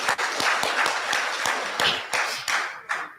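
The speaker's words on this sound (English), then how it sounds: "I think you must clap for yourselves." Conference audience at an anniversary opening session claps enthusiastically, a dense, close patter of many hands with a few sharp individual claps punctuating it, fading slightly toward the end.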